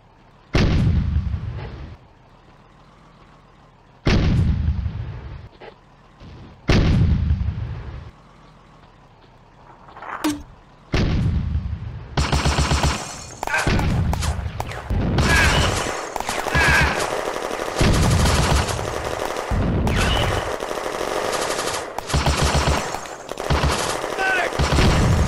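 A WWII battle scene from a video game set in France in 1940, with heavy booming artillery blasts and echoing explosions at first, then dense, continuous machine-gun and rifle fire, loud and close, with shouted voices mixed in.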